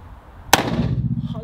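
A Desert Eagle pistol fires a single sharp, loud shot with a sudden crack and a short ringing tail, close by, with voices faintly present after.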